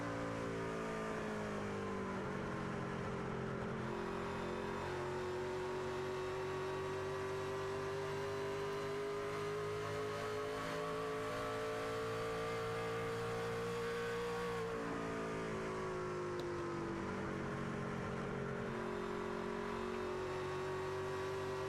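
Race cars in the HTL Nashville 300 drone steadily and loudly, engine pitch gliding down and rising again as cars run close together in a pack, with no voices.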